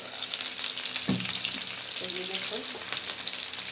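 Pieces of chicken fry in hot oil with a steady, close sizzle, while a single brief spoken word and a few clinks of a utensil against the pan break in over it.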